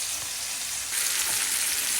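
Potatoes frying in a pan, a steady close hiss of sizzling oil that swells slightly midway, with faint stirring beneath, no voices.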